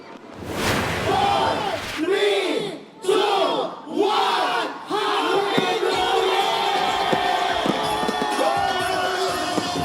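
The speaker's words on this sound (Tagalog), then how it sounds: "Masasayang hiyawan at kantahan sa iba't ibang sulok ng lungsod" A large street crowd cheers and shouts at a New Year celebration, with repeated swelling collective yells in the first seconds, then a sustained loud roar of voices and whoops continuing throughout.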